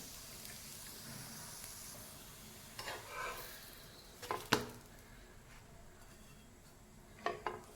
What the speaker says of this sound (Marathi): तव्यावर तेल मी घातलेलंच होतं आता पराठा घातला